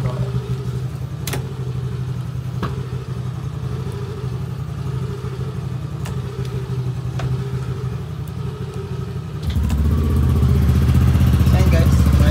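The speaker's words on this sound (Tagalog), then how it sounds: "try natin guys buhayin yung motor." A Yamaha Aerox scooter engine, freshly refilled with gear oil, starts near the end and runs with a steady, loud, low idle after several seconds of quieter handling noise.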